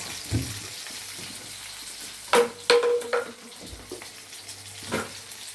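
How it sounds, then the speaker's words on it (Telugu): Food frying in a pan for sambar gravy, with soft sizzling and a few louder clatters of stirring partway through, fairly close and alone without voices. "ఫ్రై చేస్తాను అన్నమాట. ఫ్రై చేసి అది గ్రేవీ కలుపుకుంటాను."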